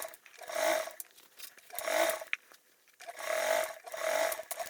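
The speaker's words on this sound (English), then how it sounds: "we are top stitching with a 1/8 seam allowance" A sewing machine top-stitches an insulated tote bag at a 1/8-inch seam allowance. It runs in four close, loud bursts of rapid needle chatter, each rising and falling, with brief pauses between them.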